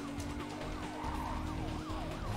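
Police car siren in the video game Need for Speed Carbon, a steady rising and falling wail over a constant engine roar, loud and continuous with no talk.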